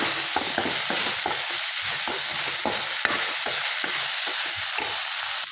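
Okra (lady's finger) poriyal is stir-fried in a pan, a loud, steady sizzle broken by repeated scraping strokes of the spatula, close up and with no voices.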